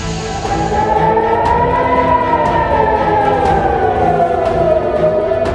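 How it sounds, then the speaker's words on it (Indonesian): A loud wailing air raid siren at Ben Gurion Airport, Israel, rises and falls slowly in a long, continuous tone, with faint scattered clatter underneath. "video amatir memperlihatkan suara sirine peringatan serangan udara di Bandara Ben Gurion, Israel."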